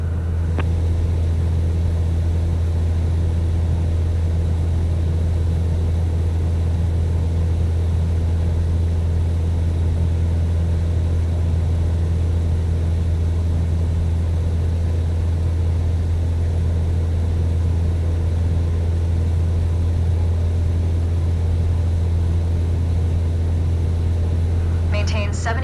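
A light aircraft's propeller engine drones steadily during a climb in Microsoft Flight Simulator 2024. The loud, even, continuous hum holds without a break from start to finish.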